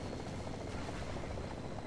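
An attack helicopter approaches in War Thunder tank gameplay, its rotor producing a steady, loud, throbbing drone that holds throughout the short stretch with no voices.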